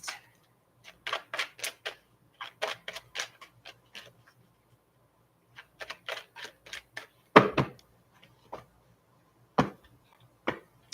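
Tarot cards being shuffled by hand, heard as bursts of crisp riffling and snapping card flicks in short clusters with pauses between, close and fairly quiet, with a few sharper slaps near the end.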